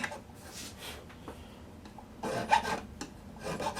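A file rasps over the sharp fret tips at the first and second frets of a Larrivee classical guitar during a re-fret, several short close scraping strokes that grow louder toward the end, with no talking.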